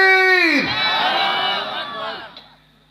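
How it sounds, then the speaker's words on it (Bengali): A crowd at a religious gathering shouts Allahu Akbar in unison: one loud voice leads into a big, sustained massed roar of many voices, which fades out after about two seconds. "সবাই একটু জোরে কোন তো আল্লাহু আকবার।"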